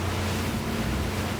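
A Ranieri Cayman 45.0 Cruiser runs at speed on open water, a steady low engine drone with hull and water rush and some wind buffeting, continuous and fairly faint, no voices.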